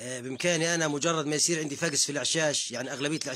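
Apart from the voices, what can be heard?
No everyday noise stands out behind the speech.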